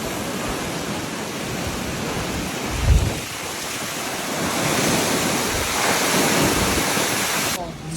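Strong wind blows outdoors in a village during a storm, a steady, loud roaring rush that swells slightly with a brief low thump partway through and no voices.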